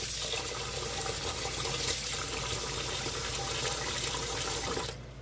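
Tap water runs steadily and loudly into a bowl as white rice is rinsed in a home kitchen, a continuous splashing rush that cuts off abruptly at the end.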